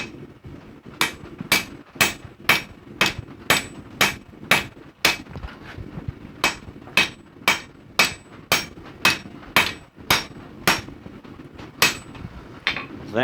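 A blacksmith hammers metal to tighten a hole, sharp ringing blows landing in a steady rapid rhythm, close and loud, in two long runs with a brief pause between.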